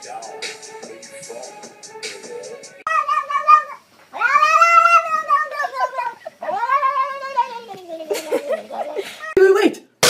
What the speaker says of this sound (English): Go get the cat.